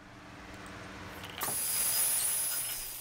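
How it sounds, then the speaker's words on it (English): A belt sander starts up partway through and runs with a high whine and hiss, removing rust from a cast iron Dutch oven, fairly faint, after a quieter stretch of background noise. "So I decided to get out my belt sander and really get after this."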